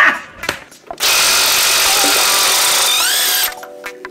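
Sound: power tool loosening a nut on a Landcruiser axle

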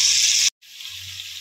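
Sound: chicken browning and sizzling in a pan

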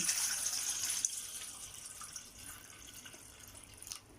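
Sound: water poured into a basin

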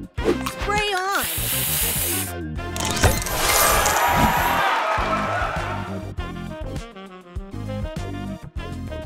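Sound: spray booster activating in the Match Masters video game

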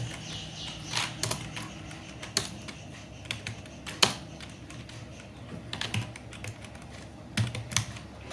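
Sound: typing a madrasa name on a computer keyboard

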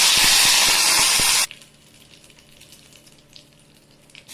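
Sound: curry leaves sizzling in hot oil

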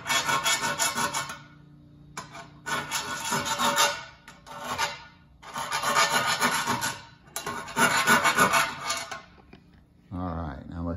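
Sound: hand file rasping inside a hole in hot rod part

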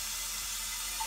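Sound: water turned on, running through steam generator

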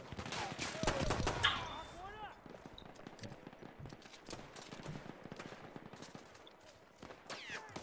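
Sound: pistol gunfire in Battlefield 1 video game

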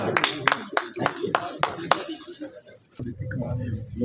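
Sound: audience applause at a mushaira

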